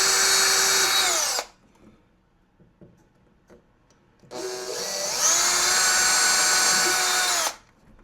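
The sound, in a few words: drilling a hole in a pinball cabinet with a small bit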